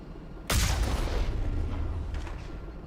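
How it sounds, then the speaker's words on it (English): Gunfire in a video game, one sudden loud blast that rolls into a long, rumbling decay, close and booming, with no voices over it. "why are you shooting at me with the tiniest guns in the world?"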